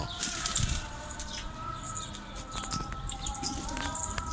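A pigeon flaps its wings as it flies in, a short burst of soft fluttering close by, followed by lighter scattered flutters and patter over quiet outdoor background.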